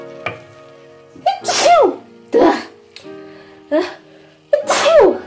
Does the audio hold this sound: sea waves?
no